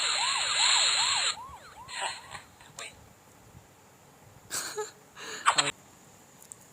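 A wailing police siren in a Stickman heist video game sweeps up and down rapidly for about a second, then cuts off, followed by quiet whispery voices and scattered clatters.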